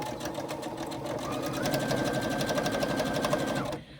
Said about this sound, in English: we're going to sew up the side seams of this pocket, but leave the bottom open